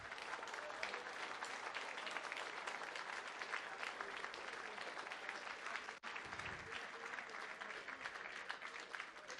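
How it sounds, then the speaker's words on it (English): A crowd applauds at a school rowing regatta gathering after a barbecue, continuous many-handed clapping that stays even and fairly distant throughout, with a brief dip partway through. "Round of applause for all those people, please"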